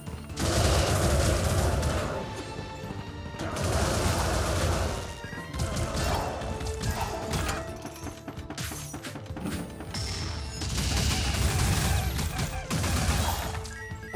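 Loud, dense bursts of video game gunfire and crashing impacts fill the stretch, rising and falling in waves with brief lulls between volleys.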